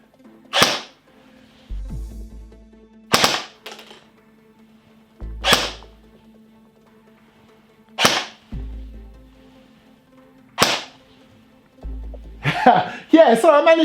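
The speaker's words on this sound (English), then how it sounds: "You heard a couple of double shots going off there." An AGM Sten MK2 full-auto airsoft gun fires in sharp, separate cracks, mostly single shots with a couple of quick double bursts, spaced a second or two apart with quiet gaps, ending in a brief murmur of voice.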